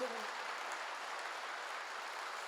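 Church congregation applauding during a sermon, a continuous, fairly faint hiss of many hands clapping together without breaks.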